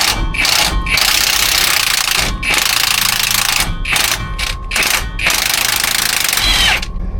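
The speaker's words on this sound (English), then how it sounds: "I think I can get off with my driver" A power driver buzzes in several loud bursts with brief pauses between them while removing a transmission mount bolt on a Workhorse P32 motorhome.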